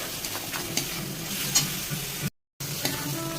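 Fish masala with Kashmiri chilli powder and cumin is stirred and fried in a pan for a Bengali-style fish dish, with a steady close sizzle, spoon scrapes scattered through it, and a brief dropout near the end.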